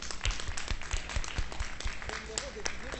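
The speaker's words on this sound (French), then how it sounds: "je pense que ça s'applaudit parce que environ 2000 euros pour le Téléthon" An audience at a charity auction for the Téléthon applauds: a short burst of steady clapping from a crowd, with voices talking over it.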